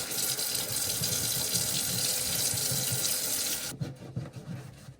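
A paint palette being washed under a running tap: a steady, close gush of water into a sink for several seconds, then the flow cuts off, leaving faint splashing and drips, with no talk.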